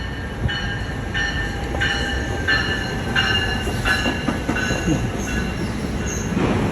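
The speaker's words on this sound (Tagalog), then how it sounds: "Ngayon ko nga lang na experience ang train from New York to New Jersey." Commuter train running from New York to New Jersey, heard from inside the car: a steady rumble with rhythmic wheel clicks and metallic squeals from the rails, loud and close, with no talk.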